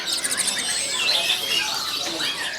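Many caged baby birds in wooden cages at a large bird market in Yogyakarta, Indonesia, chirp and squeal together in a dense, continuous high-pitched chorus, close by and steady throughout.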